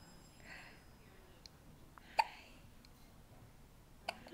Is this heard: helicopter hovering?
no